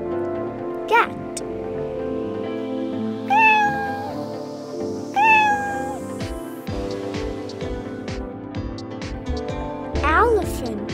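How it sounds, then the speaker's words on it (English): Two distinct cat meows a couple of seconds apart, close and clear, over light background music with brief vocal sounds around them. "Cat."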